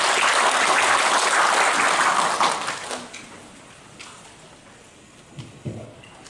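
An audience at a Korean local politics awards ceremony applauds loudly for about two and a half seconds, then the clapping fades quickly into a quiet room with a few scattered claps.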